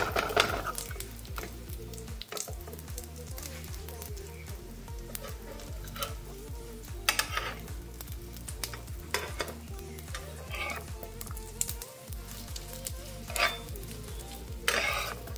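Food fries in a pan over a continuous sizzle, with frequent stirring scrapes and clicks of a utensil against the pan, while steady tonal music plays underneath and nobody speaks.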